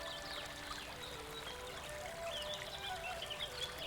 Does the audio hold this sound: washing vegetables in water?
yes